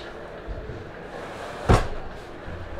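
A cabinet door inside an RV at a show closes with a single soft thump, close by, over a steady murmur of background crowd noise.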